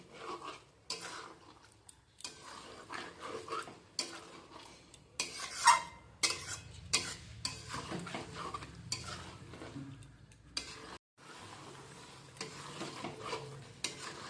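Chicken pieces being stirred and seared in a pan over medium-high flame for chicken biryani, intermittent scraping and clinking of a utensil against the pot over a faint sizzle, fairly quiet and close, no voices.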